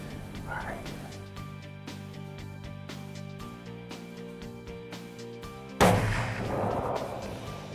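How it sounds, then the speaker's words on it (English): A single loud gunshot fired at a buck during an Iowa deer hunt cracks out sharply late in the clip and rings off in a long decay, with steady music playing underneath throughout. "I'm going to take the shot right there."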